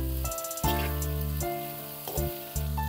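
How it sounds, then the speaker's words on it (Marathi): Mixed vegetables sauté in oil for a Maharashtrian Bhogi bhaji, a soft sizzle with intermittent scraping and clinks of stirring, close and without talk. "अजूनही आपण हे सगळं फक्त तेलावरती परततोय"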